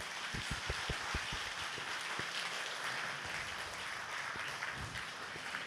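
An audience at a Korean community council launch ceremony in Toronto claps steadily throughout, a dense wash of applause with no voices on top.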